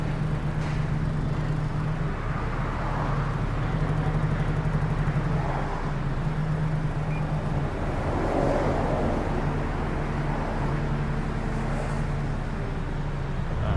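A Kubota excavator's hydraulic system runs with its engine held at low idle, a steady, unbroken drone with a low hum throughout, close to the microphone and heard alone without talk.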